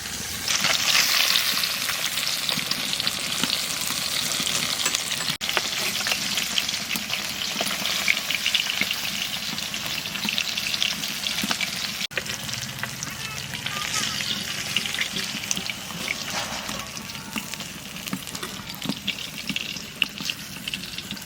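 Hilsa fish frying in a pan, a loud, sustained crackling sizzle throughout with occasional sharp clicks and utensil knocks.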